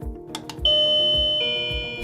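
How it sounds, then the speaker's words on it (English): A WaveLink wireless doorbell receiver plays a bright electronic chime of two sustained tones, loud and close, over a faint rhythmic thumping in the background. "how to set up your WaveLink wireless doorbell"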